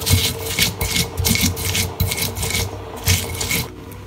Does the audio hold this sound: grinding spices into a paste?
yes